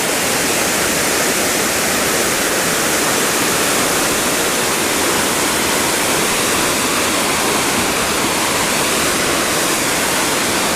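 A loud waterfall on a river along a hiking trail roars as a dense, unbroken wash of rushing water, close and constant throughout with nothing else audible.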